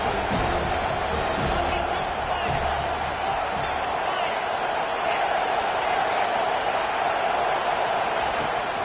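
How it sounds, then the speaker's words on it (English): A large home crowd at a college football game, Miami against Florida State, roars steadily as the defense faces third down, a dense continuous wall of cheering throughout with no breaks. "Here comes this home crowd as the defense tries to get off the field on 3rd down"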